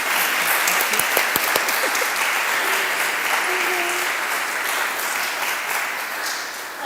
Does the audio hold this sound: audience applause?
yes